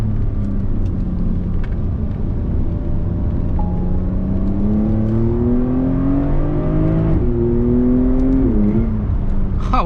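A Porsche 992 Carrera 4S cabriolet revs hard in Sport Plus mode, heard from inside the car. The loud, continuous engine note climbs steadily in pitch over several seconds, then drops briefly near the end.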